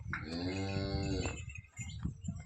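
A pregnant cow on a farm gives a single long, loud moo close by, followed by quieter shuffling and faint background noise.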